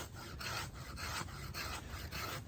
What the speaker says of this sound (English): we'll use the corner of that 90-degree spine to remove material shavings just like this